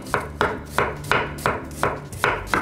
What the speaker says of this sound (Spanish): aquí vamos a picar, vente, compadre. Vamos a filetear.